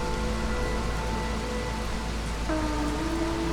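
Steady rain downpour in the video game Against the Storm, a continuous hiss of falling water with faint tonal game music running beneath it throughout.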